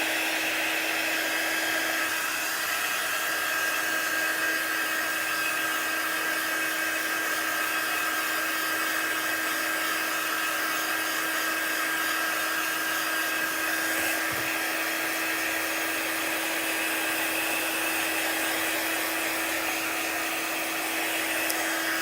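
A hair dryer blows steadily and loudly on a chalkboard for the whole stretch, a constant whooshing hum without breaks.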